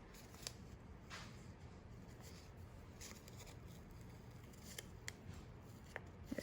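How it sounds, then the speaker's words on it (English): Scissors cut through felt around pinned pattern pieces with faint, soft snipping and crisp little clicks, quiet and close against a low steady background hum, with no talking. "I'm gonna just start cutting around my pattern pieces."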